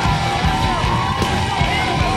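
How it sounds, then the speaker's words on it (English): Wrestling crowd at a Twin City Wrestling show giving a sustained roar of cheers and yells, loud and dense throughout with a brief sharper burst near the middle. "Big round of applause"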